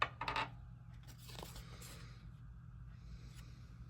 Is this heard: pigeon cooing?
no